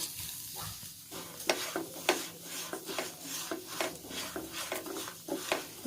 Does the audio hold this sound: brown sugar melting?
yes